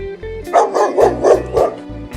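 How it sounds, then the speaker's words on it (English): A dog barks five times in a quick, evenly spaced run, loud and close, over light background music from a farm animal toy lesson. "Dog."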